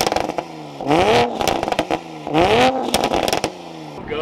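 A Toyota Supra widebody in sport mode, exhaust fully open, revs hard twice with rising roars from the exhaust, loud and close, separated by idle rumble and crackle.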